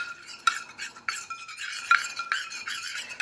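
A spoon works through a homemade hair dye mixture in a small bowl, giving soft, irregular scraping and clinking strokes, fairly quiet and close, with no talk.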